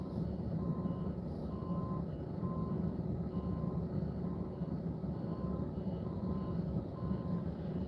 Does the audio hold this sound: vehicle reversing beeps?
yes